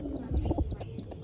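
A young pure white crested pigeon kept in a home loft makes a brief low coo, with a light flutter or scuffle close to the microphone.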